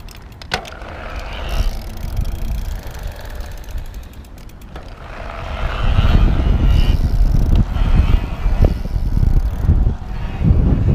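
A Haibike XDURO AllMtn 8.0 electric mountain bike rolling on pavement, its big tires buzzing and humming with wind rush, swelling louder in the second half.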